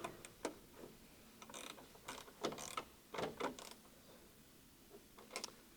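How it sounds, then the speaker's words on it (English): A 12 mm ratchet spanner tightens a tailgate damper bolt on a 2022+ Ford Ranger/Raptor, giving bursts of quick mechanical clicking in short runs separated by pauses, moderately close. "And we get our 12 mil spanner."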